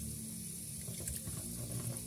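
Raw chicken rinsed under a running kitchen tap, a steady quiet stream of water splashing into a sink with faint handling sounds, no talk.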